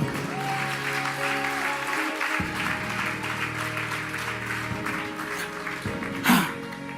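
Church congregation at a prophetic worship service applauding and cheering, a steady wash of clapping over sustained music tones, with one louder burst near the end.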